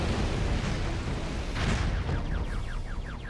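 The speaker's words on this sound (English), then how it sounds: "Okay, I may need a kamikaze barrage. Kamikaze barrage!" Kamikaze barrage explosions roar in Ratchet & Clank: Size Matters, forming a continuous rumbling wash of blasts and bursts. The sound stays fairly steady and moderately loud, with a sharper flare in the middle.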